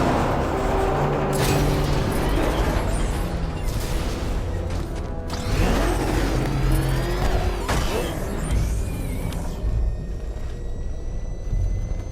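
In the game Batman Arkham Knight, the Batmobile's engine roars and revs loudly and continuously while reversing, with rising whines and booming rumbles throughout.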